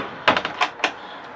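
A drawer in a 2011 Adria Adora 612 caravan being pulled open, giving a few close, quick sliding rattles and knocks with a final soft thunk.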